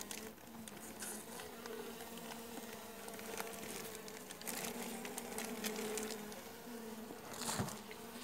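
Honeybees buzz inside a calm hive, a steady close drone with sustained tonal hum and scattered faint taps and rustles throughout, with no voices.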